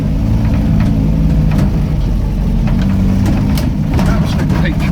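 A 1980 Land Rover Series 3 109 engine pulling along in third gear, a loud, close, steady low rumble with a broad mechanical drone that holds even throughout.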